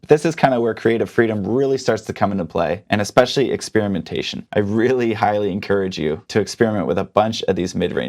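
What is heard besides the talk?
No distinct noise like a dog, phone or traffic.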